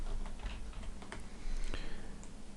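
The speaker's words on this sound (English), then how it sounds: "we'll just type in the center here" Keys clicking on a computer keyboard as text is typed, a short, close burst of irregular taps over a faint background hum.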